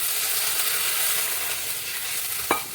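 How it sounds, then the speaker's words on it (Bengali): Fried potato curry sizzles steadily in a pan, and near the end a brief sharp burst rises as hot water goes in. "এবার এর মধ্যে একটু গরম জল দিয়ে দেব।"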